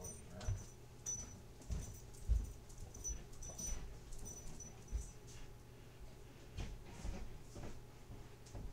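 A dog named Peanut shifts about indoors with soft pattering movements and faint whimpers, a series of quiet bursts heard at a distance.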